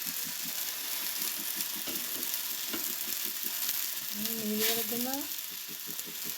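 Curries reheating in a pan fry with a steady, close sizzle, broken by a few clinks of stirring and a brief rising whistle-like tone; a voice speaks briefly over it.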